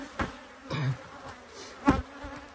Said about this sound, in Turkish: Şunlar normal işçi arılar.